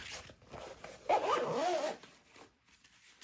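A zipper on a quality bag is pulled in one quick rasping stroke, close and clear, after a few soft handling rustles, with quiet room tone and no speech.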